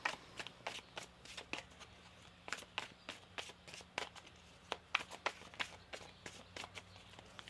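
Tarot cards are shuffled in a quick series of crisp riffling flicks, close and fairly quiet, repeating in irregular bursts.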